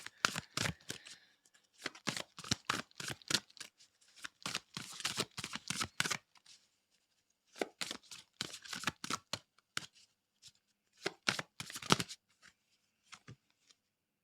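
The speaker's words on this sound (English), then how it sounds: "let's just bring in the Amazonian tarot, and we'll get one card from that" Amazonian tarot cards shuffled by hand in quick bursts of riffling and flicking, close and clear, with short pauses between rounds and no talking.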